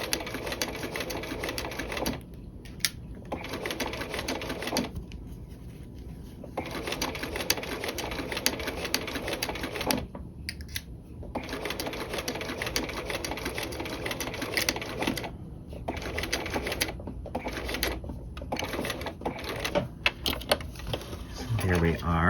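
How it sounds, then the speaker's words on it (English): A sewing machine runs long 5.0 basting stitches along a half-inch seam while constructing a dual flap pocket. The steady mechanical whir is interrupted by several brief pauses, then restarts. "I will machine baste at 1/2 inch, so this machine basting will hide later"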